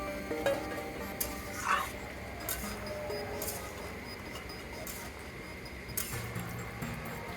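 Lentil dumplings (bori) tipped into a simmering jackfruit and potato curry and stirred, giving faint, soft scraping and low bubbling over a steady background hiss, with a couple of light knocks.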